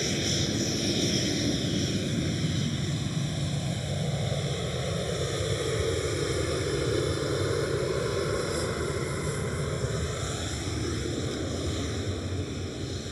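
A Singapore cargo Boeing 747 applies reverse thrust on landing at Schiphol Airport in Amsterdam, a loud, close, continuous jet roar with a tonal whine and a slowly shifting pitch, heard alone without talking.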